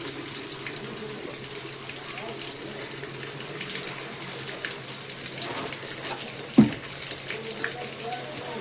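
Water runs steadily from a tap as a continuous, fairly loud hiss with a brief splash or knock near the end; no one speaks.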